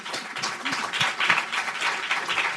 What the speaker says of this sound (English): Another round of applause for the energy